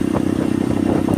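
An old motorcycle being ridden, its engine a close, steady, rapid pulsing thrum with a little mechanical clatter over the top, and no voices.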